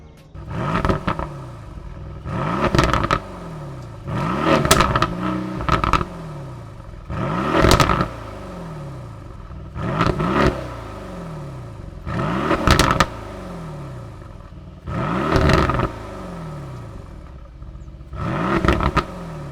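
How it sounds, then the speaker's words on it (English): A 2018 Mercedes-AMG GLC 63 S 4Matic+ revs repeatedly through its AMG performance exhaust, about eight sharp throttle blips rising and falling in a regular rhythm, loud and close, with a low idle between. "That exhaust note was incredible."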